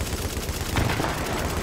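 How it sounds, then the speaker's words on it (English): Gunfire in The Division video game, set in the Lincoln Tunnel, comes as a dense, steady burst of shots that runs continuously through a short stretch without talk. "I'm trying to shoot this guy's bag"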